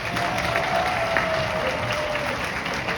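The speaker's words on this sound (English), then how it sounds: "the ladies' side should give her a loud round of applause" Dense, continuous applause from the women's section of an audience at a Shabbaton gathering, loud and close, filling the whole stretch with a faint sustained whistle-like tone running through it.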